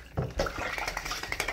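Water splashing and sloshing in a tub while a puppy is bathed, with brief irregular splashes and trickling close by, no talk.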